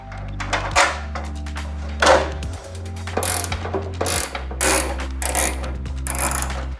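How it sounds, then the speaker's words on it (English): A 3mm hex key and an 8mm wrench tighten the hardware on a rear diffuser for a VW MK7/MK7.5 GTI or Golf R. Close, repeated ratcheting clicks and metallic turning noises come in irregular bursts, with no talk. "We will be starting with hardware A using a 3mm hex and an 8mm wrench."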